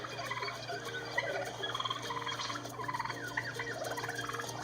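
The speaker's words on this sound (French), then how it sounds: "Le ronronnement, ou le purr, est un cri chevrotant, de faible volume et de tonalité aiguë" Soft, trilling purring calls from wild turkeys, quiet, high-pitched and repeated over a low steady hum, like contented purring from a small flock nearby.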